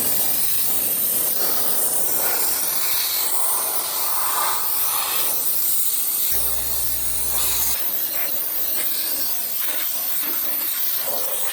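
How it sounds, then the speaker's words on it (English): Compressed air blowing water off a freshly washed motorcycle, a loud steady hiss and spray lasting throughout, with a brief low droning hum partway through; no one speaks. "then part two will be compressed air"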